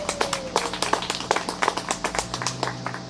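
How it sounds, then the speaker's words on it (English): A live audience claps steadily for a magician's trick at a first-anniversary event, a dense roomful of overlapping hand claps with sharp irregular peaks that hold at an even level throughout. "give him another big round of applause"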